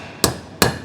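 Two sharp hammer blows on a ball bearing set in a hole, punching out a clean bolt hole in a workshop, close and distinct with a short ring after each.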